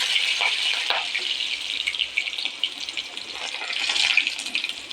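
Shallots and mustard seeds fry in hot oil with a steady, bright hiss and crackle, sizzling continuously at moderate volume, with occasional louder spits and pops, and no voices over it.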